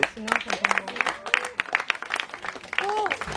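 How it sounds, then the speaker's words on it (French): Scattered audience applause at an international cuisine event, uneven claps from a small crowd mixed with people talking and cheering voices, close and moderately loud. "on les applaudit"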